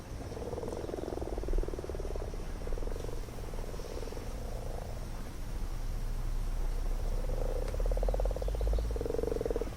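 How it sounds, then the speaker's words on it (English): Frogs croak in repeated rattling bursts from a pond, several calls overlapping against a soft steady background hiss. "Now, not only have we got frogs in the pond"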